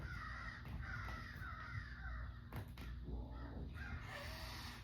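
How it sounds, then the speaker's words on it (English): Several crows caw outside, harsh repeated calls at a moderate distance coming in uneven bursts over a constant low background hum, with no talking. "there's like 10 crows out there."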